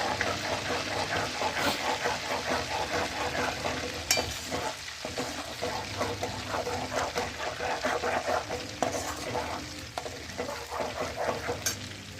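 Butter simmering and foaming up in a pan as it turns into homemade ghee, a steady close bubbling sizzle with fine crackles throughout and no talking.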